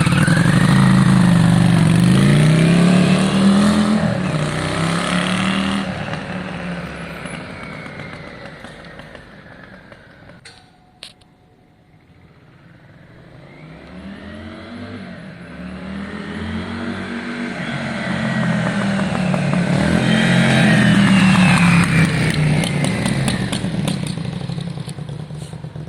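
Yamaha Virago motorcycle with straight drag pipes revving loud and close, the exhaust swelling and falling in repeated rev cycles, a brief drop near idle midway, then climbing hard again.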